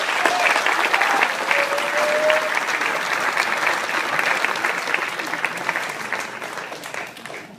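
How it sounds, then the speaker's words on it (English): A large commencement audience breaks into loud, dense applause that holds strong for several seconds, then gradually thins toward the end. "Classmates, please join me in a round of applause for those who helped us to make it to this day."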